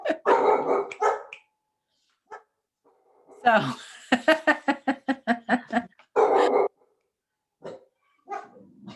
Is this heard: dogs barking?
yes